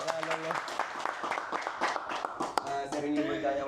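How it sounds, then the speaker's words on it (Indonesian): Brief clapping from a small group in a podcast studio, a few seconds of loose, close hand claps mixed with voices talking and laughing over them. "Tepuk tangan dulu, Pak."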